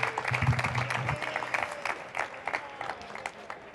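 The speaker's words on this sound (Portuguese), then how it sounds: "os pido un gran aplauso para él" Audience applause for a guest welcomed on stage at Campus Party Spain, a tech event, with dense clapping that swells early and then thins out, alongside some voice sounds.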